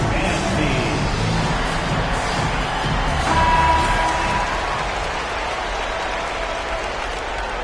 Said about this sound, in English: Fans, please give a big round of applause for your dance team.